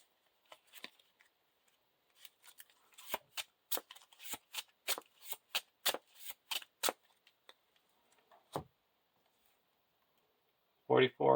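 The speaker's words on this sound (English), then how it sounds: "Shuffle the encounter deck." Playing cards from a card game's encounter deck being shuffled, a run of crisp riffling bursts and slaps with short pauses between them, close and moderately loud, with speech near the end.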